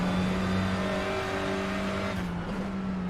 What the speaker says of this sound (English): Listen to that Honda engine climb up the hill.